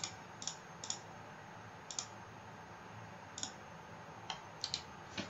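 Sharp, light computer mouse clicks at irregular intervals, about ten single and double clicks, close and crisp over a quiet hum, made while drawing a collision polygon in the Unreal 4 editor.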